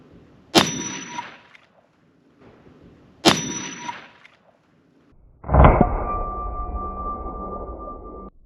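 Two sharp metallic cracks a few seconds apart from a rifle fitted with a SilencerCo Hybrid 46M suppressor, each ringing out briefly, followed by a heavier boom with a long humming ring; no voices.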